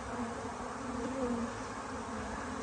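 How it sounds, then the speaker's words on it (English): A honeybee swarm gathers at a hive, filling the air with a dense, continuous buzzing hum from many bees, steady and fairly close with no voices. "It tells all the bees to come into the hive body."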